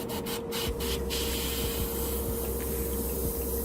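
A Harder & Steenbeck Geminus airbrush with a 0.4 mm tip, fed by a compressor at about 20 psi, sprays paint with a continuous soft, close hiss and a steady faint hum beneath.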